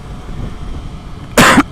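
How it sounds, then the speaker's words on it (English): A slightly sick motorcycle rider wearing a helmet headset coughs once into the mic on a morning ride: one short, loud, close cough over a low, steady rumble of road and wind. "I might cough into the mic here and there."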